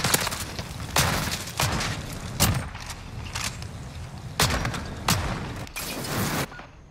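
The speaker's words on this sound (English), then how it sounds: "you're using the shotgun" Video game shotgun blasts, about eight sharp, heavy booms spaced irregularly roughly a second apart, each with a short decaying tail, loud and close with no talk over them.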